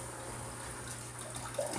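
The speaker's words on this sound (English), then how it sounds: "I'm going to take this large pot and put water in it." Tap water running steadily into a large kitchen pot, a continuous close hiss with a slight rise in splashing near the end.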